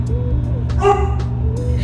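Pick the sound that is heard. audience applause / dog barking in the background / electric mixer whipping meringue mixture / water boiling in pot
dog barking in the background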